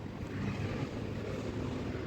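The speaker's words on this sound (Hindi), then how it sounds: "जो तेज़ हवा, गर्म हवा होती है ना, वो मैं आपको बालकनी में दिखाती हूँ" Strong hot wind roars steadily across the microphone on a balcony in Bhopal, a dense, constant rush with no voices.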